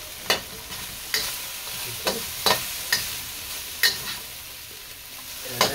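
Broccoli frying in a pan, two or three scrapes of stirring against a steady sizzle, several sharp clicks of a utensil on the pan spaced about half a second apart, close and moderately loud with no talk.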